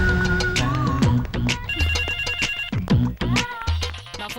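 A mobile phone plays a melodic ringtone, a bright repeating tune that rings out clearly and continuously indoors.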